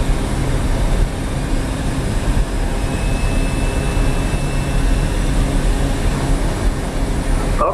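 Steady, droning seaplane engine in Microsoft Flight Simulator during seaplane operations in the Maldives, a constant loud hum holding level throughout with no talk.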